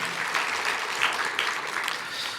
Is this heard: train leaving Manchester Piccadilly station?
no